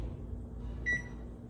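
A short electronic beep sounds once as a kitchen timer is set for cooking a fish stir fry, a single bright tone over a low steady room hum.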